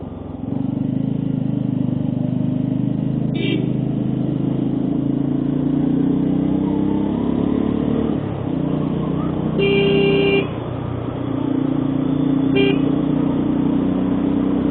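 On a rainy monsoon ride through the Kolli Hills, a vehicle's engine drones loudly and steadily up close, its pitch rising and falling, while three short horn toots sound at intervals.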